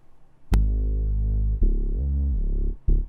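A Serum synth bass preset with a bell EQ boost around 2779 Hz plays a few deep, sustained notes, starting with a sharp attack and sliding in pitch midway, loud and clean with no other sound.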